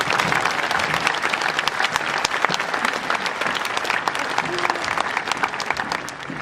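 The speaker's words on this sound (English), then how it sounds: "Let's give this group a well-deserved round of applause" Sustained, loud applause from a large graduation-night crowd, dense clapping continuing steadily throughout without pause.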